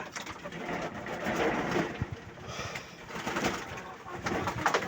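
Pigeons coo softly in low, repeated murmurs against a background of faint rustling, during bathing.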